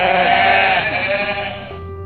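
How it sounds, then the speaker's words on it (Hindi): A goat lets out one long, loud bleat close by, a strained wavering cry that fades over about two seconds, heard alone. "बकरी"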